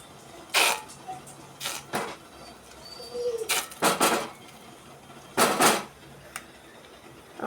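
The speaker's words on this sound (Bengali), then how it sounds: "কড়াইটা নড়ছে, আমার কড়াইটা ধরতে পারছি না," A metal wok clatters and knocks on a home stove while cooking, giving about five sharp separate rattles spread over several seconds against a quiet kitchen background.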